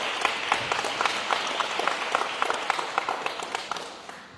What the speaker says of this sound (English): Can we give one more round of applause for our 5 amazing graduates?